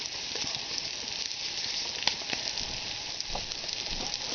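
Pan pizza dough fries in a pan, giving a steady close sizzle with scattered small pops and crackles throughout, no talking.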